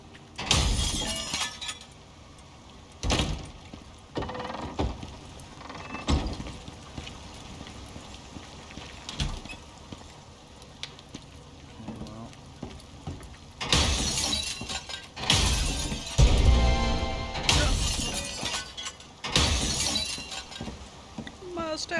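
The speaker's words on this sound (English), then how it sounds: "Now that I just went and smashed everything again." Objects being smashed in the survival video game Icarus, a rapid series of loud shattering, breaking crashes in bursts, with quieter gaps between.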